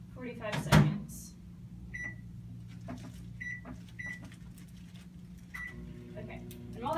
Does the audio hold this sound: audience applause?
no